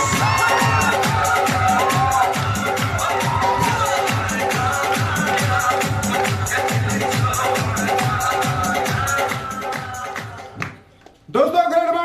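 An indoor audience at a business seminar breaks into sustained loud clapping and cheering for over ten seconds, dense and continuous, before dropping off abruptly near the end.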